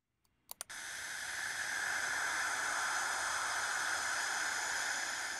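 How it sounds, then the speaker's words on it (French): Charged particles around Saturn picked up by the Cassini probe produce a broad, even hiss, starting after a couple of sharp clicks and then holding steady and loud for several seconds. "Ce sifflement est produit par des particules chargées dans l'environnement."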